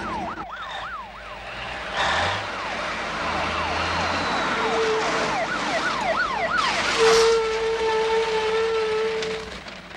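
A police car siren wails in a rising and falling pattern, loud and fairly close, with a second siren tone and steady traffic rumble underneath throughout.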